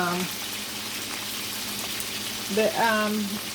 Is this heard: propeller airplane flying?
no